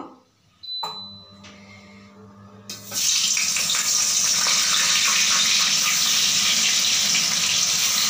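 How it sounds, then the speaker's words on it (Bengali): Fish heads rubbed with salt and turmeric go into refined oil in a wok: a few quiet clinks, then a sudden, loud, continuous sizzling hiss that holds steady to the end, with no talking. "কড়াইতে আমি রিফাইন অয়েল দিয়ে দিয়েছি এবার মাছগুলো আমি ভেজে নেব"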